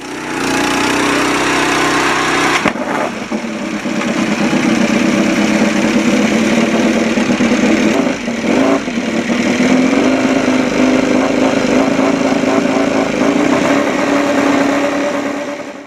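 A motorcycle engine idles close by, a steady, even rumble that settles in after a short start and runs on unbroken, with no voices.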